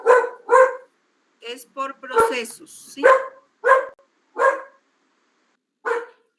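A small pet dog barks indoors in a series of sharp, close yaps, about eight in all, in an irregular rhythm, with someone speaking Spanish briefly in the middle.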